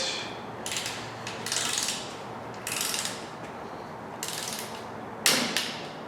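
A torque wrench ratchets on oil pan bolts of an LS LM7 5.3-litre V8 engine, heard as several short bursts of close, dry clicking separated by brief pauses, with a sharper final click near the end.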